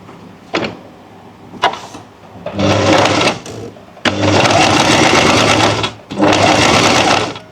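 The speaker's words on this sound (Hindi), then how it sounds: "अब हम इसको सिल लेंगे।" Sewing machine stitching around a fabric neckline in three bursts, the last two long and steady, broken by a couple of sharp clicks and pauses.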